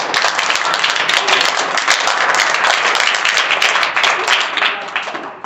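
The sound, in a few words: students clapping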